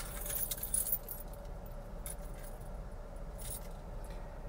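Keys jangle while a gate is opened beside a parked Cadillac SRX V6 SUV: light metallic clinks over a steady low rumble of the idling engine, close by and without talk.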